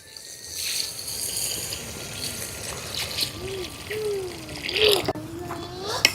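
Water poured into a pot of Telangana-style goat head-meat curry as it cooks, a steady trickling, splashing pour that runs for several seconds close by.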